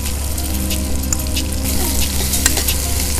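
Raw mango pieces frying in a curry pan with turmeric: a dense, steady sizzle fills the clip, with faint stirring scrapes and light clinks close by and no voices.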